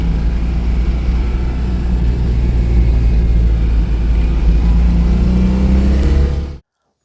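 A Daimler SP250 sports car engine roars steadily at high revs, loud and close, a deep throaty drone that holds before cutting off abruptly near the end.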